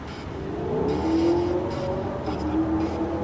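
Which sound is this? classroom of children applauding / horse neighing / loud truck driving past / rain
loud truck driving past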